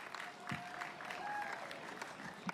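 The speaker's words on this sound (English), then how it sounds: "Round of applause to our third place getter." Crowd applause for the third place finisher of the men's Gold Coast Marathon, a broad steady wash of clapping from a fairly distant outdoor crowd with a few sharper claps and tonal background sounds.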